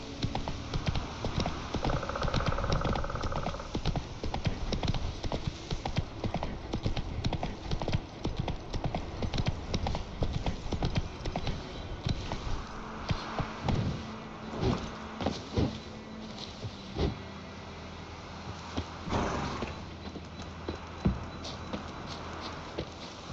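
Roach, the horse in The Witcher 3, clip-clops along in a steady hoofbeat rhythm that eases off partway through, with game ambience and a few faint incidental sounds around it.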